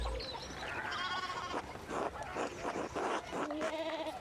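Sheep in the video game Pentiment bleat repeatedly, several wavering cries overlapping and following one another at close range, with no talking.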